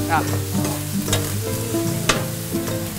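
Tomato and salt being stirred in a frying pan, a spoon scraping and clinking in short strokes over a light, steady sizzle, close by with no talk.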